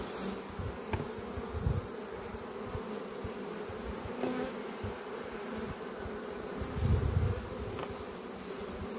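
Honey bees swarm over a hive frame where they are building drone comb, their dense, steady buzz humming close and continuous with no voices.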